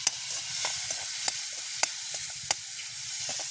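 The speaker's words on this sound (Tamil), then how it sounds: "வெங்காயம் பச்சை மிளகாயம் பொரிஞ்சு கொண்டு வரது" Onion and green chilli fry in a pan with a steady close sizzle and hiss, broken by regular clinks of stirring against the pan.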